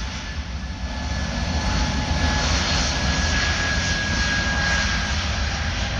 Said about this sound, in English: That's the Airbus A320. You can see the engine roaring,